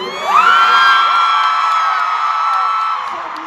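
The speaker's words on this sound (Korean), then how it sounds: "이 한마디가 나오자 현장에서는 엄청난 함성이 터져 나왔습니다" A huge concert crowd at a show in Las Vegas lets out a loud, sustained roar of high-pitched screams and cheers that swells quickly and holds for several seconds.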